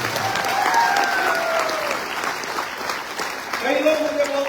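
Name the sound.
audience applause at a company event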